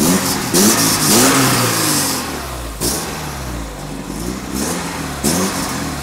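Alfa Romeo 33 1.7 16V boxer engine revving through its exhaust, loud and close, with repeated throttle blips rising and falling over a rough idle, three or four revs in a row.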